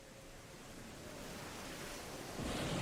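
Crashing ocean waves and stormy wind at sea in the horror game Paranormasight, a steady faint wash of surf noise that swells slightly louder near the end, with no talk.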